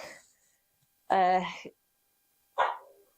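A dog barks a few times indoors in an art studio, with a pause between barks, each one loud and close against otherwise quiet surroundings.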